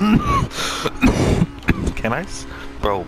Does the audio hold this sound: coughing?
yes